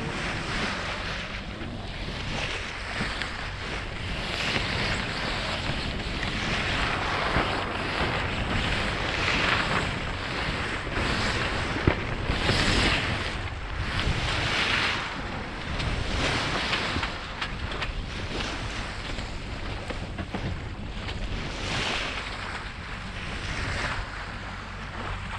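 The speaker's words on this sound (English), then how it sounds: "We're sailing." A sailboat under way on open water, with steady wind buffeting the microphone and waves washing and surging against the hull in irregular swells throughout; no voices.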